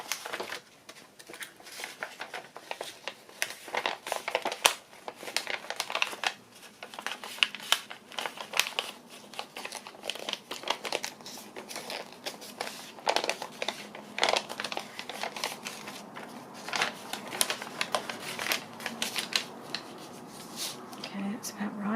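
Paper for a junk journal being trimmed and folded by hand, producing close, continuous crinkling and rustling with scattered sharp crackles over about twenty seconds.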